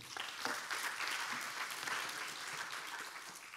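Applause from an audience at a conference, sustained even clapping from many hands, somewhat distant and fairly quiet, with no talk over it.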